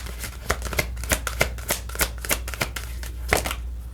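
Tarot cards are shuffled close by in a rapid run of crisp riffling slaps, about two or three per second for four seconds, heard alone without speech.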